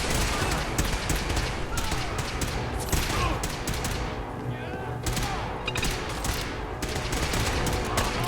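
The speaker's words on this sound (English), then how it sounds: "it's a 4-barrel shotgun" A four-barrel shotgun fires in Fallout 4 inside a building full of hostile people. Dense, loud blasts crowd in over one another in a chaotic firefight that hardly pauses.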